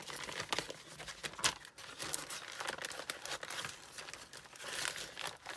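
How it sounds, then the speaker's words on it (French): A card slides back into a paper envelope, a close, soft run of crinkling and rustling paper with brief sharper scrapes, quiet and alone. "donc je remets ça dans l'enveloppe"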